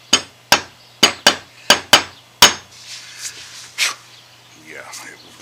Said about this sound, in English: I just don't really want to hammer it.